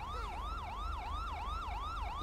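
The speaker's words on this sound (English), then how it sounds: "use a priority siren and make sure traffic is completely stopped in the intersection" A police car priority siren in the game GTA 5 wails in a fast, regular up-and-down yelp, loud and close, repeating about every third of a second with no talk over it.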